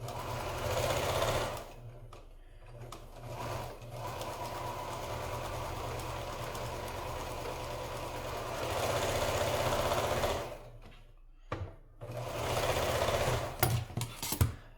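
A sewing machine stitches quilt pieces together in long, steady runs of rapid mechanical chatter, broken by a few short pauses and quick stop-start bursts near the end; no one speaks.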